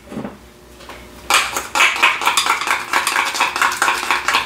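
Ground burger meat for a mushroom Swiss burger is worked together with a teaspoon of all-purpose seasoning in a bowl, making loud, close, continuous squelching and clattering mixing sounds after a brief quieter start.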